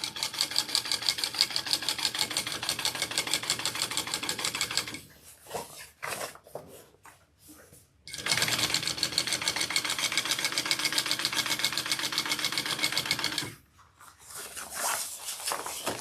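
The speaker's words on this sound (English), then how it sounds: "that'll give it a double row of stitching up at the top" A sewing machine stitches a double row along the top of a tote bag made from old fishing waders, with a fast, steady mechanical chatter. The run breaks off for a few seconds of handling, resumes at length, then stops again.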